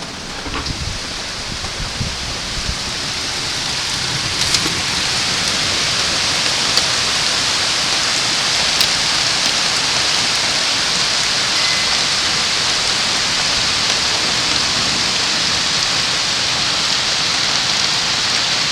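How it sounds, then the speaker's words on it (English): Heavy warm rain pours down continuously, a dense, even hiss of drops hitting surfaces, steady and loud throughout with no voices. "but it's just pouring."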